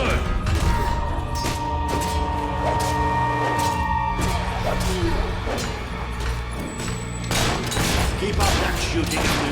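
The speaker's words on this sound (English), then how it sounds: "Keep up that shooting and we'll be rid of them in no time" Steady gunfire in the video game Fable III, a dense battle soundscape of repeated shots under a constant wash of noise and music, with voices briefly heard in the mix.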